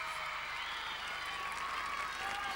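A gymnastics arena crowd cheering and applauding as a gymnast steps onto the floor, a dense, steady wash of clapping and raised voices filling the hall.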